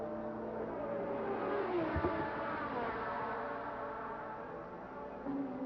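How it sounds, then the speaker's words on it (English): A Toleman Hart turbocharged Formula 1 race car from the 1983 season, its engine a steady droning roar with a brief rising whine, heard from trackside without any talk. "This was to be Giacomelli's last ride for the Tolman Hart-powered turbo race car"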